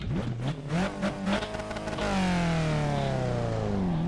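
A racing car in a driving game launches hard off the start, its engine revving loud and climbing through rising pitch sweeps with gear changes, then holding a steady high drone.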